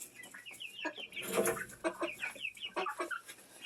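Several chickens cluck close by in a coop during their morning routine, a busy overlapping chorus of short rhythmic clucks and squawks without pause.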